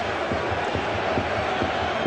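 Stadium crowd roaring in celebration after a Bayern Munich goal away at Schalke 04, a dense, steady wall of cheering with commentary voices blended in.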